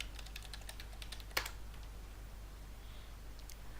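Computer keyboard keys tapped during a login, a quick burst of light clicks early on followed by a single sharper key press, then quieter scattered taps over a steady low hum.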